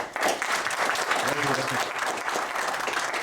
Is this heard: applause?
yes